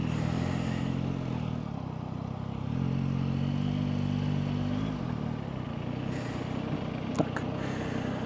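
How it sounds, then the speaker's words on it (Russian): A Yamaha Tracer 9 GT+ (2025) motorcycle engine hums and revs at low speed in traffic, its pitch rising and settling, with a brief clatter near the end. "как мотоцикл ведет себя в трафике"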